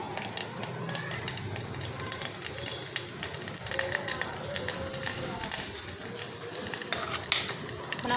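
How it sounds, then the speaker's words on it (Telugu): Cumin seeds and curry leaves sizzle in hot oil as a continuous crackling fry with occasional stirring clatter, fairly quiet and close, while a voice talks over it. "ఆయిల్ వేడి అయిన తర్వాత కొంచెం జీలకర్ర వేసుకోవాలి."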